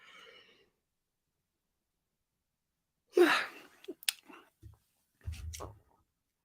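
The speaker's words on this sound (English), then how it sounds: "I'm about to yawn" A single person yawns, a breathy drawn-out exhale close to the microphone, surrounded by near silence and a few faint vocal sounds.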